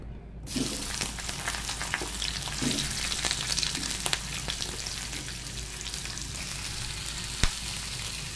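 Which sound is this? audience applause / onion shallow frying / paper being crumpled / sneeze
onion shallow frying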